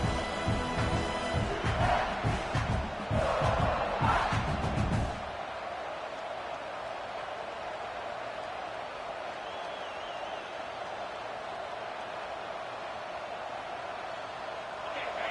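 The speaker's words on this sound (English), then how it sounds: "The roar of the crowd trying to fuel this defense to keep them pinned in their own end." A packed stadium crowd roars loudly at a college football game between South Carolina and Cincinnati, the din holding for about five seconds before dropping away to a low, steady background murmur.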